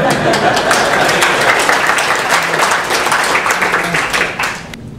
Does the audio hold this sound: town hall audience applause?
yes